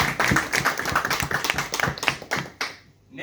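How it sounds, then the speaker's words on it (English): Audience at a Toastmasters farewell ceremony claps in brisk, uneven bursts for about three seconds, fairly close and dry, before tapering off. "Let's clap for him."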